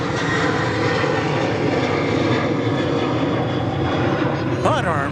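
Airliner engines roar during a go-around at DFW Airport, a dense, steady, loud rumble sustained throughout, with a brief voice near the end.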